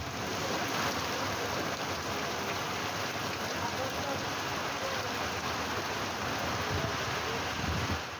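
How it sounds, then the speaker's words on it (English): Torrential rain pours down in a steady, dense wash that stays loud and unbroken from start to finish, with no voices over it. "Torrential rain."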